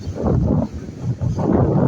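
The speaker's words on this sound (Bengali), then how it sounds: "কারণ নদীর পাড়ে অতিরিক্ত বাতাস" Strong gusty wind on the bank of the Meghna River at Hatia buffets the microphone, a loud roaring rush that dips briefly and surges again.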